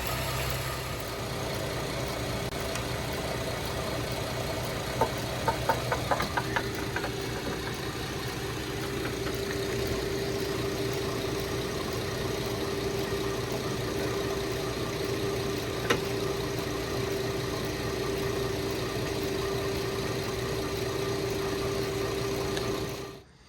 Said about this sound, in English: the AC compressor is gonna kick on and kick off, kick on and kick off